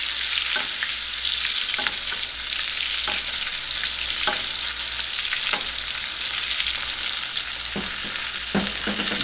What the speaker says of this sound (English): Now, I'm going to cook this steak about medium rare.